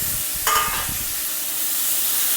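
Chopped sorrel leaves (chukkakura) drop into a hot frying pan with curry leaves, setting off a brief louder burst of sizzling that settles into a steady close hiss and crackle, with no voices.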